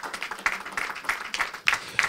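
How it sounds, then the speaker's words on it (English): Audience applause for a panel of speakers at a business event, a moderate, fairly quiet patter of hands with a few sharper claps standing out. "let me see your applause for these gentlemen and lady who are here"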